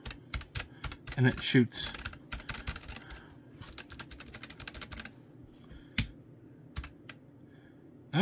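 Typing on an Epomaker mechanical keyboard with reactive lighting, a close burst of sharp key clicks followed by scattered single taps and pauses, with a brief bit of speech near the start.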